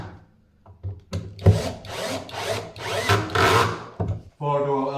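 A power drill drives pocket-hole screws into a plywood box for a workbench, several bursts of whirring and grinding in quick succession, loud and close, ending in a steady motor whine.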